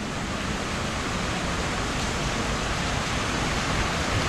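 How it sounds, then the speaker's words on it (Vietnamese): Water in a stream display inside a large store flows with a steady, even rush. The sound is unbroken and moderately loud for the whole stretch, with no voices. "Dòng suối."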